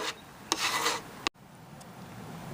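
Hard scraping rubbed across the wooden cabinet of a 1935 Crosley 635/655 radio during finish work, a few rasping strokes up close with a sharp catch before going quiet.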